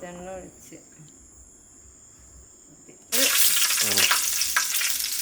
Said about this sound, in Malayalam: അത്യാവശ്യം വെളിച്ചെണ്ണ ഒഴിച്ചു കൊടുക്കുക